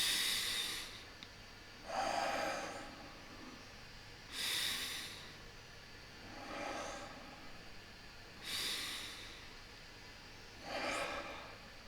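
Slow, deep breaths taken in and out during a guided meditation, about five breath cycles in a quiet room, each a soft airy rush rising and fading with no talk over them.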